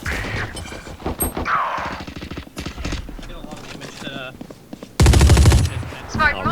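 Gunfire in the Valorant video game, a pistol among the weapons, cracks out in rapid bursts amid busy game effects, with a loud sustained blast of shots near the end and players talking over it.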